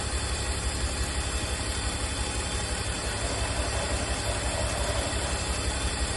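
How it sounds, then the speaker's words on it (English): BMW E46 engine with new fuel injectors idling with a misfire, a steady close rumble with an uneven, faintly stuttering low pulse throughout. "The fact that it's misfiring like that with brand new fuel injectors."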